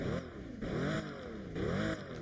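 A Pagani limited supercar in the Driving Empire video game revs its engine in rising and falling sweeps, three quick pulls of a synthetic engine tone, clear and alone.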